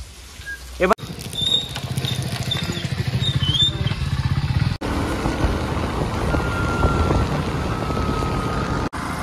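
Continuous rumble of passing traffic on the Nagar highway with wind buffeting, broken by brief dropouts; a steady roar of vehicles nearby.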